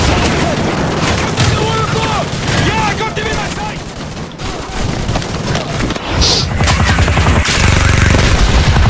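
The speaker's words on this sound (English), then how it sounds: "Those MGs are tearing us apart!" Machine gun fire from enemy nests rattles in Call of Duty Modern Warfare, sustained bursts mixed with heavy booms and battle noise, with voices and shouting over the din throughout.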